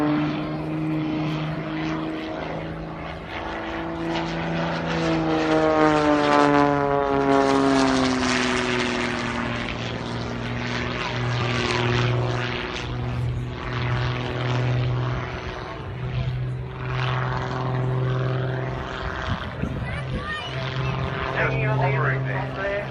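An aerobatic propeller airplane performs at the Tyabb airshow, its engine loud and whining as the pitch rises and falls through maneuvers, with a commentator talking over the steady drone.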